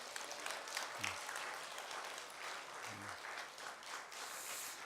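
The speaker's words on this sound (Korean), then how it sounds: "오늘 상훈이가 그냥 드럼을 멋지게 쳐주셨는데 우리 이분들이 한번 박수 쳐주세요." A church congregation claps for the worship leaders and drummer during a Korean service, a faint, steady round of applause in a large room, with no talking over it.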